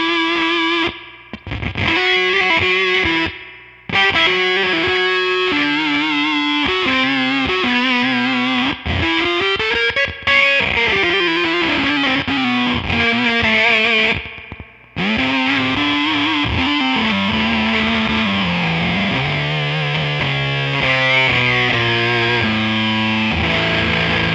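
A Beetronics Swarm effects pedal processes an electric guitar, giving a thick, fuzzy, distorted tone across a series of sustained notes and short phrases with brief gaps between them.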